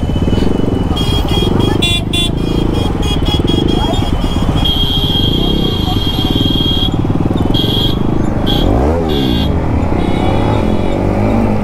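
A motorcycle with an aftermarket exhaust rumbles loudly and steadily close by, with a raspy exhaust note, light revving and a brief horn toot in traffic.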